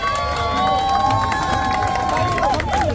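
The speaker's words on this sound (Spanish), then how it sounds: "Aplauso para Joselito." Lively crowd at a dance duel show cheering and clapping, dense and loud, with music tones running beneath the noise.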